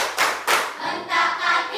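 A class of sixth-grade children claps hands during a classroom action song, a few sharp rhythmic claps in quick succession, loud and close.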